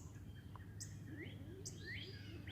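Small birds chirping and singing outdoors near a backyard feeder pole: a few brief, faint tweets over a steady low background hum.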